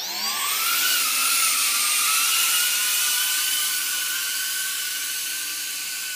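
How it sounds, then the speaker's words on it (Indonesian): A Reptil V2 GPS drone flies with its propellers screaming in a loud, high, buzzy whine that swoops up and down in pitch as it maneuvers, steady and close throughout with no speech. "kita coba terbangin Reptil V2 pesanan Om Anung di Jogja."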